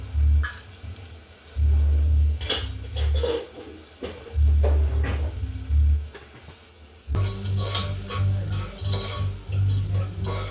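Turmeric and asafoetida sizzle in hot oil in a pan while misal is being cooked, giving a steady frying hiss marked by repeated scrapes and stirring knocks against the pan.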